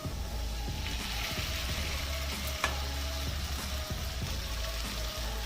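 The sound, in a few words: soaked sago added to fried carrots, cashews, raisins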